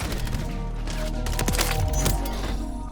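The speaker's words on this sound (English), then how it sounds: "Gunfire erupts inside a Northwest Side apartment complex." Rapid gunfire in a news report about a shooting inside a Northwest Side apartment complex, a dense, continuous burst of shots that fills the whole stretch with steady loudness and no clear gaps.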